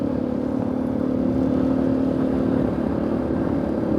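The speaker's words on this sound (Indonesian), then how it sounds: "Masih dengan sepeda motor yang sama dan juga knalpot yang masih belum kita ganti lagi ke racing, masih standar." A motorcycle with its stock standard exhaust rides along in Kuala Simpang, its engine a steady, mellow drone without pronounced revving, heard alone.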